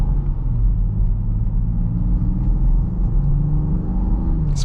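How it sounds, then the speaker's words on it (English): A 2022 Land Rover Defender SE X-Dynamic driving on the road, its turbocharged engine giving a steady low rumble with a faint rising whir, heard from inside the cabin, continuous and fairly loud, no talking. "this produces some pretty neat turbo noises too"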